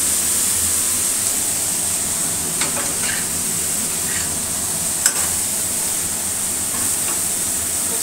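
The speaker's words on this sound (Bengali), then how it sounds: "এবার এই কপিটা ঢেলে দেব।" Cauliflower pieces hit a hot pan and sizzle loudly in a dense, steady hiss, with a few faint utensil clicks scattered through.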